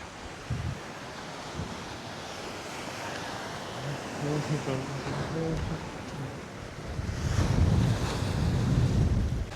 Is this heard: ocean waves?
yes